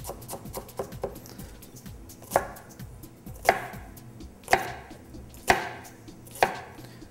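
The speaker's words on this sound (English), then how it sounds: "Just slicing across one way and then slicing across in another direction." A knife chopping a shallot on a cutting board: quick light taps at first, then about five louder, evenly spaced chops near the mic, with no talking.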